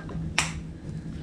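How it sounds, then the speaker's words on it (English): A single sharp hand clap rings out close by, one crisp slap over a steady low hum in an indoor room, with no talk. "Why am I clapping my hands so many times?"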